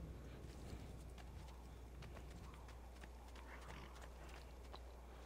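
Horse hooves clip-clopping in Assassin's Creed II, a quick irregular patter of light hoofbeats over a constant low game hum, fairly faint and steady, with no voice.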